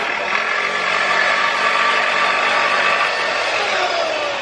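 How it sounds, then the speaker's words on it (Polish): Power drill running steadily outdoors near a home under renovation, a loud continuous whirring drone holding for several seconds with no pauses. "przepraszam za ewentualne odgłosy wiertarki"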